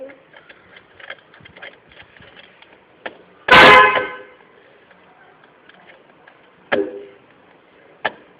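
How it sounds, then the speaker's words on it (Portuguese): A grandfather's car horn is pressed in one loud, sustained blast lasting about a second, with shorter, fainter toots following. Voices talk softly in the background. "Aperta a buzina"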